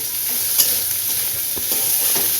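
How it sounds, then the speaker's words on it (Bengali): Potatoes fry in a pan for chowmein with a steady, close sizzle, broken by a few soft stirring scrapes and clicks, with no talking. "আলুটা ভেজে নিই ভেজে একটু নরম করে নিই"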